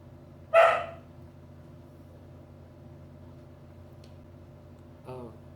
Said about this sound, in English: sorry if my dog is being loud in the background. He doesn't really like the washing machine.